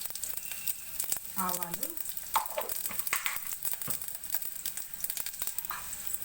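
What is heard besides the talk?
onion frying in oil for sambar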